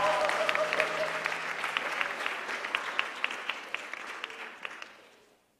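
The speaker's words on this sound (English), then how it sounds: "Bit of a cheer for Mwanza." A church congregation cheers and claps at a Sunday baptism service, a steady burst of applause with scattered sharp claps that fades out toward the end.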